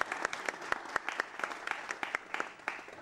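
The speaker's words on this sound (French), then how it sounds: "Est-ce qu'on peut acclamer le Seigneur juste pour ça?" A church congregation claps in praise of the Lord at an opening service, a quick run of sharp, fairly distant handclaps in a loose rhythm that carries on for three seconds.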